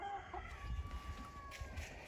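Roosters and chickens in a snowbound winter coop, with faint clucking and a distant crow against a low steady hum, quiet and indistinct throughout.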